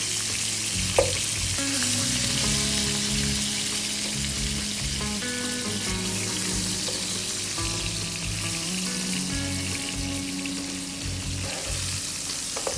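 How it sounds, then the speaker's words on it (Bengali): Fish head frying in a pan, a loud, dense continuous sizzle heard up close, with faint clinks and a steady hum beneath and no talking. "মাছের মাথাটাকে আমি একটু ভেজে নিচ্ছি"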